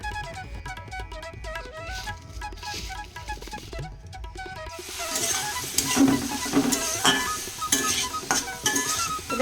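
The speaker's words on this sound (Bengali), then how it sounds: "এখানে আমি সমস্ত সবজিগুলো ভেজে নিচ্ছি ভালো করে" Mixed vegetables frying in mustard oil with salt and turmeric for chira pulao, a bright, crackling sizzle with stirring and clinks of utensils that rises and grows louder midway after a stretch of musical tones.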